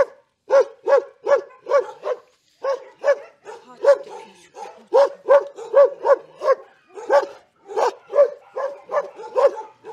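A dog at an animal shelter barks repeatedly in quick, regular bursts, close and loud, with brief pauses between runs of barks and no talking.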